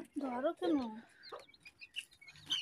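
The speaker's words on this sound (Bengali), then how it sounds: "ওদের দেখলেই বোঝা যায় ওরা দেশি মুরগির বাচ্চা" Close, repeated clucking from a native village hen, loud at first and then softer, mixed with high chirps from her chicks around her.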